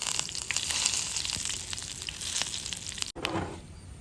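Mustard seeds, dried red chillies and curry leaves sizzle steadily in hot oil for a Kerala sambar tempering, with a close crackling hiss and scattered pops, then a brief break followed by a fresh burst of sizzling.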